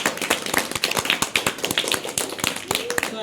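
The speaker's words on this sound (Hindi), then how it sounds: "तो एक जोरदार ताली बजा दो तुम लोग" Students in a school classroom clap loudly together in a rapid run of sharp claps at close range, with a bit of voice mixed in.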